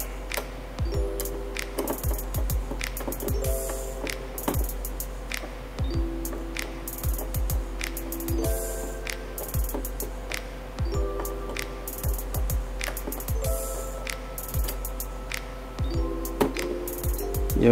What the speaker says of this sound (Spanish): Y lo atornillamos.